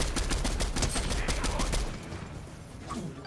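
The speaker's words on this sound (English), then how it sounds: "I'm getting sniped at by somebody" Rapid gunfire crackles in a Fortnite match during a sniper attack, a fast run of sharp shots for about two seconds that then thins out to scattered distant pops.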